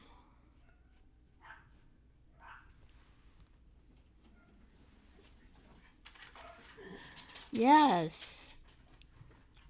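Dogs heading outside: a couple of soft, distant yips early on, then a loud whimpering bark near the end, with a brief spoken word and quiet room noise around them.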